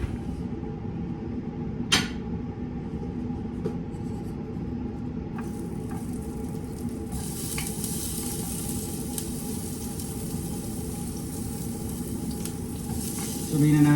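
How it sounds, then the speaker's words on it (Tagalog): Food sautés in a pan on the stove, a constant low sizzle with a sharp clack near the start and a few light knocks, swelling into a brighter, louder hiss partway through. "At ngayon magigisa naman tayo nito mga boss."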